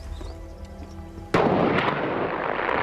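A single sudden blast fired by remote controller, a sharp loud crack followed by a sustained roaring rumble that fills the rest of the clip, after quiet background hum and tones.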